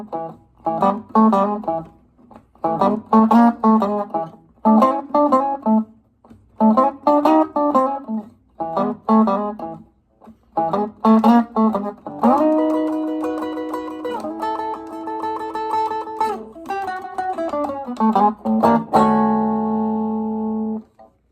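Electric blues guitar in a Chicago blues style plays a pattern of short phrases that ends in a turnaround and ringing sustained chords, clear and alone with no talking.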